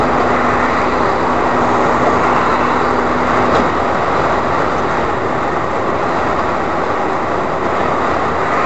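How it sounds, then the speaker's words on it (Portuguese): A train passes on a raised railway line about three metres up near Strood, England, a loud, steady, broad rush and roar filling the whole stretch without letup. "O comboio passa mais acima aí uns 3 metros."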